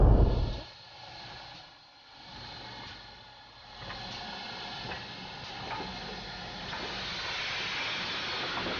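A Manor Class 4-6-0 steam locomotive hissing at Bristol, a broad, steady rush of steam that drops briefly, then swells back and holds, fairly close.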